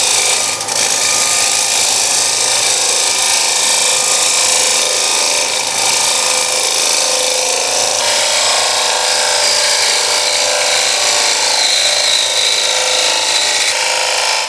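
A wood lathe spins a bowl while a gouge takes finishing cuts, making a loud, continuous whirring and scraping hiss that holds steady throughout, close up and without pauses.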